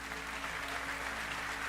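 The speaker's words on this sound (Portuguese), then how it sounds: "Eu quero que você aplaude a Deus agora pela sua vida" A church congregation claps during an evening service, steady and continuous throughout, with a soft hum underneath.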